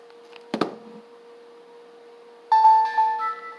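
A faint steady hum, then a soft click, and after a short pause a bright electronic chime of a few clear tones rings out from a Nintendo DSi handheld game console starting up.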